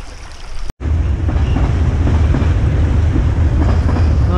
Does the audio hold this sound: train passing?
yes